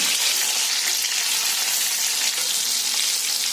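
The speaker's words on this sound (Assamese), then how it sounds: "প্ৰথমতে মই এই বিলাহীকেইটা ভাজি ল'ম" Tomatoes frying in hot oil for a restaurant-style chicken curry, giving a steady, dense sizzle that stays close and even throughout with no voices.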